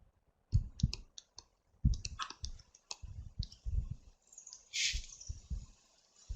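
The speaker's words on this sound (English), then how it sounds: "somebody's typing" Someone types on a computer keyboard in short irregular bursts of crisp, close clicks with brief pauses between them and no voices.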